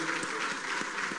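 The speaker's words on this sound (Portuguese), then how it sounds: "Palmas para o Fabião" Applause for Fabião, praised as an actor who played a demon, fills a church gathering with steady, dense clapping throughout, moderately loud with a faint murmur of voices beneath.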